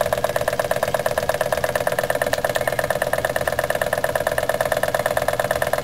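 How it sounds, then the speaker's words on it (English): A Jensen 25 model steam engine runs freely with its generator load disconnected, giving a steady, rapid mechanical chugging with a constant whirring hum, close and continuous throughout. "the Jensen's hardly making an effort with the generator at all. I'll just disconnect our load."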